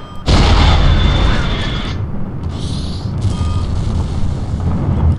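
A huge atomic-style blast in the video game Postal 2 bursts in suddenly and loudly, then rolls on as a long, heavy roaring rumble that slowly fades.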